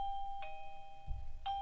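A MUBVIEW wireless doorbell chime sounds after the bell button is pressed, two clear electronic ding tones with sustained ringing, fairly close and alone with a faint thump between them.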